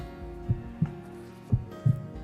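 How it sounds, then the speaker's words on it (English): A pounding heartbeat sound effect from the video game Witch on the Holy Night, paired low thumps repeating at a slow, steady pace over a faint sustained hum, with no talking. "All he could hear was his own pounding heartbeat."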